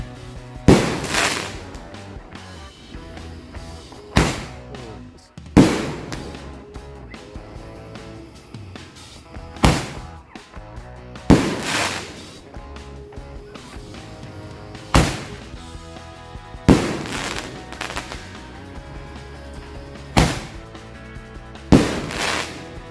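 Firecrackers set off one after another, about ten sharp loud bangs spaced every few seconds, with crackling and debris rattling between the blasts.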